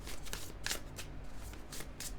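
A Wandering Star tarot deck is shuffled by hand in a quiet room, with soft, rapid riffles and card slaps in several short bursts.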